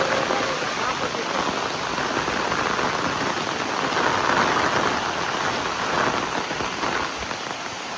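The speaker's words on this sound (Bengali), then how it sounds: "আর বৃষ্টি হচ্ছে। বৃষ্টি হচ্ছে।" Steady, dense rain pattering on a surface during a storm while out picking vegetables, loud and continuous throughout, with a rushing broadband hiss and faint voices buried beneath.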